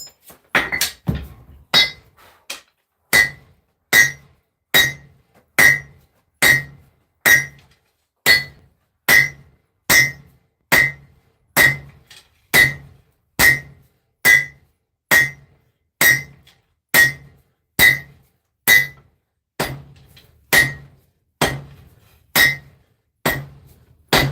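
A smith's hammer beats metal in steady, evenly spaced strikes, roughly one per second, each a sharp ringing clang that dies away quickly, about two dozen blows in a row with no talk.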